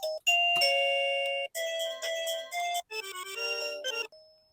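An electronic video doorbell chime plays a run of selectable melodic tones, one tune after another, clear and close, with brief gaps between each and no talking.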